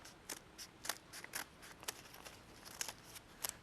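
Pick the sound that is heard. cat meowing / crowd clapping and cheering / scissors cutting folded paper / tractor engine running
scissors cutting folded paper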